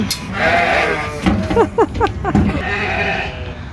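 Sheep on a Norwegian farm bleat several times in quick succession around the middle, fairly close and clear over a steady outdoor background hum.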